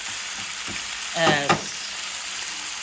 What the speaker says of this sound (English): let that thing sizzle